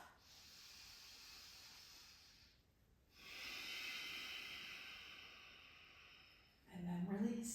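Slow, deep breaths during a yoga session: a long airy exhale, a pause, then another drawn-out breath, soft and close, ending with a brief low voiced sound.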